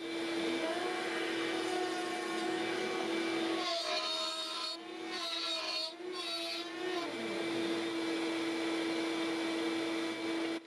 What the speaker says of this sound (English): Then I raised the bit the rest of the way and cut all the way through.